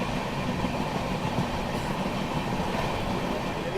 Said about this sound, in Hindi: झारसुगुड़ा रेलवे स्टेशन में अपना अराइवल जो है वो हो रहा है